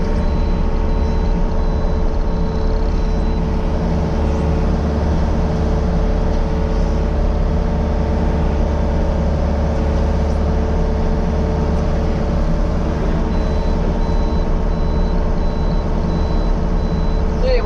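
A Yanmar tractor running a mulcher down in a creek bed, its engine a steady loud low drone with constant mechanical rumble throughout and no pauses.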